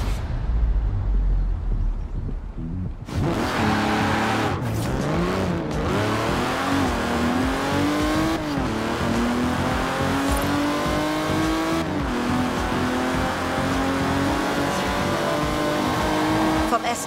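Cars in Forza Horizon 4 roar along, engines revving up through the gears with rising whine, occasional tire squeal, loud and continuous while a voice speaks over the driving.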